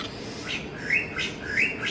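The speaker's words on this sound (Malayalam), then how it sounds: "ആ കാക്കത്തമ്പരാട്ടി ഞാൻ പറഞ്ഞില്ല ഇവിടെ ഒത്തിരി പക്ഷികളുണ്ടെന്ന്" Several short, bright calls from a drongo and other birds ring out in quick succession, rising chirps repeated at a steady pace against a quiet outdoor background.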